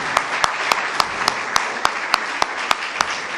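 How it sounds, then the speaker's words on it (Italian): Applause at an Italian conference on welcoming migrants: a steady wash of audience noise punctuated by a single loud, regular clap near the microphone roughly every third of a second, as one person claps in rhythm above the crowd. "l'applauso ci sta tutto"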